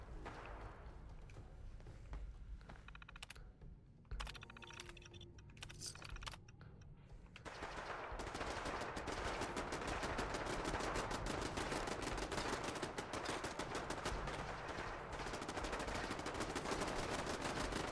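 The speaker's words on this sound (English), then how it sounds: "These other turrets are shooting at a bunch of super mutants" Turrets open fire on super mutants in Fallout 4. The first few seconds hold quieter scattered clicks, then a dense, continuous rapid rattle of automatic gunfire runs unbroken and fairly loud to the end.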